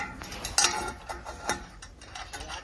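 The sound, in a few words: tightening a bolt while fitting a turbo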